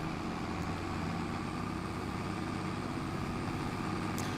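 A tractor engine in Farming Simulator 25 drones steadily at a constant low rumble, loud and continuous, with no speech over it.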